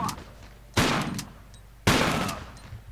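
Shotgun blasts in the video game Tomb Raider IV, two sharp loud reports about a second apart, each with a short ringing decay.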